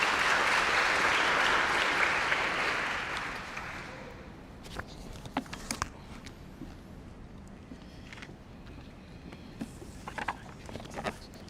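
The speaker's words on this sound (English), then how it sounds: "Please give her a round of applause." A graduation ceremony audience breaks into loud, dense applause that fades after about four seconds, followed by scattered footsteps and light knocks in a quieter hall.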